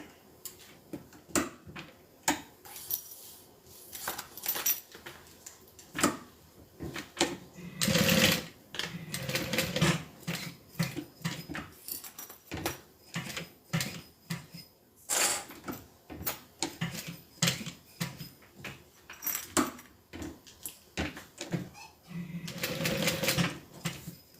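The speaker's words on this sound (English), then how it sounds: "I'm just going to slide this on, center it, and then just sew all the way around to secure it" A sewing machine stitching around a curved fabric bag piece, a rapid mechanical whirring chatter in bursts of varying length with short pauses and clicks between runs, close and loud, no talk.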